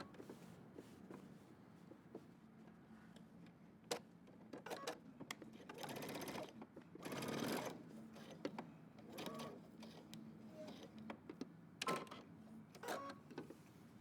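A domestic sewing machine runs baste stitches through a denim jeans jacket, a quiet mechanical whir broken by short pauses, clicks and fabric handling sounds, fairly faint and close.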